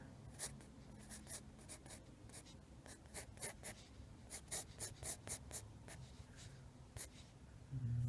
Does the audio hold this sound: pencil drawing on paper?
yes